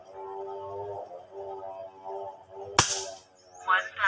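A single sharp gunshot cracks out over a low, steady background hum, followed by faint murmuring.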